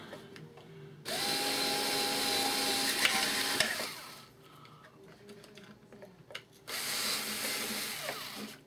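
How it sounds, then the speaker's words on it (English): A power drill whirs steadily for a few seconds drilling at an angle for a steering linkage hole, pauses amid faint workshop noise, then starts up again for another run. "I might just have to drill at a little bit of an angle"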